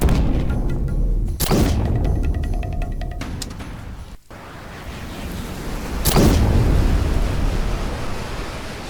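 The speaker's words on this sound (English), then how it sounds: "Explosions." Layered anime-style fight explosions: a deep booming blast with rumbling debris, a sharp crackling burst at about four seconds, then another heavy roaring explosion, all loud and dense with no talking.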